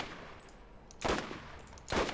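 Two separate bursts of gunfire in the co-op shooter Borderlands ring out about a second apart, each sharp and full over a low, steady game background, with no talking.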